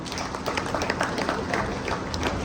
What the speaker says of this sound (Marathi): त्यासाठी एकदा जोरदार सगळ्यांनी टाळ्या वाजवल्या.